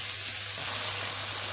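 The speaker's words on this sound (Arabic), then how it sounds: "شوحنا السوسيس مع الخضار والمكونات" Sausage and chopped vegetables sautéing in a pan give off a steady, even sizzle with a constant low hum beneath, close and moderately loud, with no voices.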